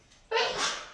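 A single sharp sneeze bursts out after a brief quiet moment, loud and close, with a breathy tail trailing off.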